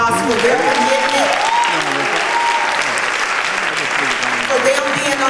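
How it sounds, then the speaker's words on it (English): Sustained applause from an audience at a coronation ceremony honoring young ladies, loud and steady throughout, with a few cheering voices rising over the clapping. "give all of these young ladies another round of applause for their commitment"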